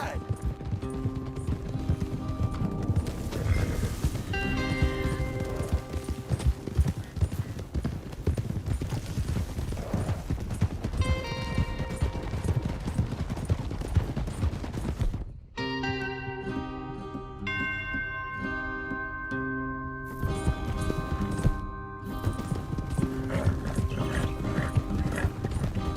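Horse hooves gallop, clopping and thudding rhythmically amid a busy Red Dead Redemption 2 soundscape with music, occasional whinnies, and voices talking over the action.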